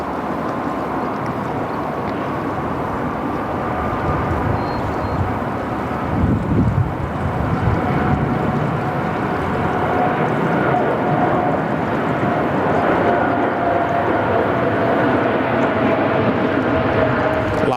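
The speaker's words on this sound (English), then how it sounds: "Lovely rotation. It's a long rotation there from the 787." A Qantas Boeing 787 takes off from Sydney Airport, its engines giving a loud, sustained roar that stays heavy and steady throughout, mixed with wind buffeting at the microphone.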